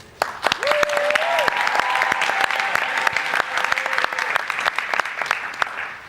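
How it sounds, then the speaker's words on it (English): Sustained audience applause fills a large hall at a conference's closing plenary session, steady and dense for about six seconds, with a faint sustained musical tone running beneath the clapping. "Thank you for the claps"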